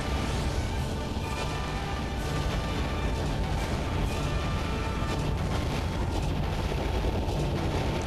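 Cannon fire and blasts from Star Fox Assault make a continuous, dense rumble of booms and explosions, loud and unbroken, with faint talk buried in the din.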